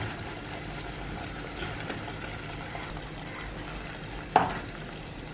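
Spinach and paneer fry over a high flame, giving a low steady sizzle with soft stirring scrapes and one sharper clink of a spoon against the pan near the end.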